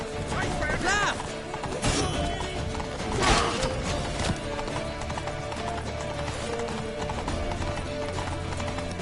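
Horse hooves clatter at a gallop in The Witcher 3: Wild Hunt, a busy rhythmic clip-clop mixed with whinnies and crashes under dense game battle noise and shouting voices.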